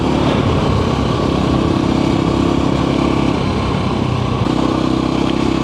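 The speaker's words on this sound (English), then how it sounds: "So I was hanging onto the throttle and it was revving a bit" Voge Rally 300 motorcycle engine held at a steady, droning rev on sand, loud and continuous throughout with a slight dip in pitch midway, no voices present.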